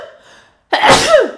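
A single loud, close sneeze with a sharp sudden burst and a brief trailing voiced tail, preceded by a faint intake of breath.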